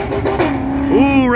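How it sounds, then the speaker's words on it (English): A Camaro at a race track bounces off its rev limiter, a near, loud, stuttering engine note that climbs sharply near the end, heard under a person talking. "Ooh, rev limiter."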